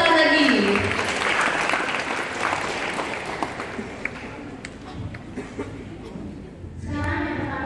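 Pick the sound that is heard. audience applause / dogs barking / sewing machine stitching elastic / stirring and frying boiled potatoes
audience applause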